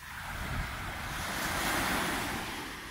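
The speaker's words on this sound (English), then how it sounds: "watching the waves and doing nothing but watching the waves, and it's pretty awesome" Ocean surf rolls in at Coney Island beach, a continuous close wash of breaking waves mixed with wind buffeting the microphone, with no voices.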